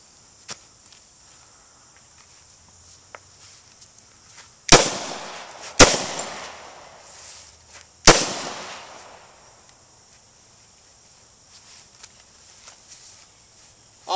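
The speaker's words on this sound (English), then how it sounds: "I'm going to shoot this vest 3 times with a .40 caliber handgun with hollow point bullets." Three sharp, loud shots from a .40 caliber handgun firing hollow point rounds into a used bulletproof vest outdoors, evenly spaced with crisp echoing tails, against quiet background with faint insects.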